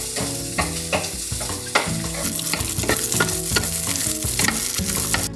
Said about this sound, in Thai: เราตั้งกระทะนะครับผมฉีดสเปรย์โอลิฟออยล์เนาะแล้วนำไส้กรอกเนี่ย ไปทอดนะครับใช้ไฟช้าๆเนี่ยทอดให้เขาสุกจนหอมเลย